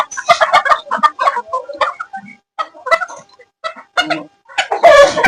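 White Japanese bantam chickens cluck on a fancy poultry farm, with a busy run of close, choppy clucks and short calls, a brief pause, then more clucking ending in a louder burst.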